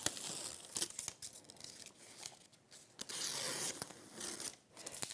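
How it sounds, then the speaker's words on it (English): Scissors scratch Bondaweb fusible web backing loose on an ombré appliqué quilt project, giving close, dry crinkling and tearing rasps in uneven bursts, loud at moments and quieter between. "You just have to give it a little scratch with your scissors to take it off."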